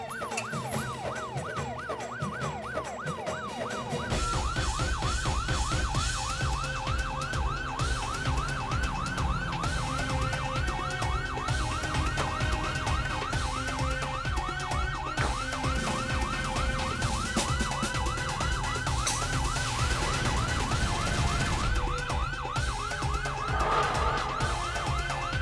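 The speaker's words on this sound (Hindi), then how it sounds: "पुलिस का सायरन सुन के" A police car siren wails continuously and loudly in a rapid, repeating up-and-down cycle, with traffic and vehicle noise underneath.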